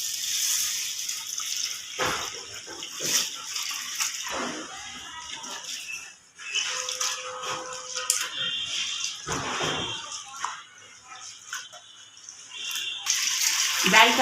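Red lentils (masoor dal) are washed in water, with continuous sloshing and splashing close by at a moderate level and occasional louder swirls and drips.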